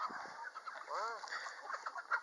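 Chickens clucking and murmuring close by, with a rising-falling rooster call in the middle over steady barnyard background noise.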